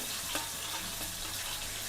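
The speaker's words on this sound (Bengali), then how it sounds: "তো এখন শুরু করি মাছ ভাজা" Hilsa fish fries in hot oil in a wok, a dense continuous sizzle and crackle heard close up and alone, with a brief louder pop near the start.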